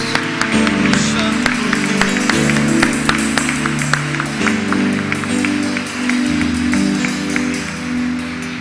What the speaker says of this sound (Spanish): Le damos un aplauso a nuestro Dios.